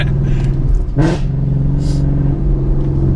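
A loud, rumbling modified 2015 Ford Mustang GT V8 idles, then revs sharply in one quick burst before settling back to a deep, steady idle.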